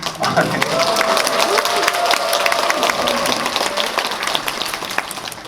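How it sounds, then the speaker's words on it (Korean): Audience applause fills a cinema hall during a film screening talk at Megabox COEX, steady dense clapping with some cheering, sustained and moderately loud throughout. "제가 오늘 태어나서 가장 많은 박수를 받는 것 같아요"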